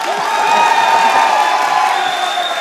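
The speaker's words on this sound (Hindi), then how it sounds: "अब बजा लो तालियां।" A studio audience at a comedy show breaks into dense, sustained applause with cheers and whoops, loud and steady for the whole moment.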